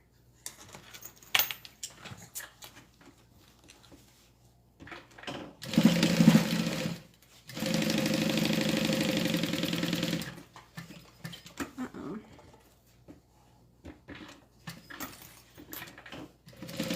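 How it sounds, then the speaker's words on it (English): Close sewing machine stitching a bag pocket shut, short bursts at first, then one steady whirring run of about three seconds, with lighter handling noises around it. "So I'm going to sew the entire pocket shut."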